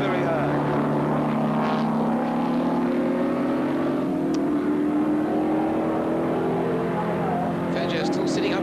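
Racing cars on the Sandown circuit in a 1978 race climbing the hill at Rothman's Rise, engines droning steadily and loudly throughout as the cars hold high revs, with commentary voices running over the top.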